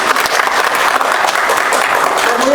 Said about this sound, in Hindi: ताली बजाओ, शादी हो रही है।